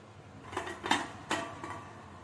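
A bottle gourd and potato curry is stirred in a pressure cooker, and a spoon scrapes and knocks against the metal pot in three or four distinct clinks over a low steady background hum. No one speaks.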